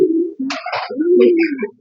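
Racing pigeons coo close by as they wait to be fed, a few low throaty rolling calls overlapping with brief higher fluttery sounds.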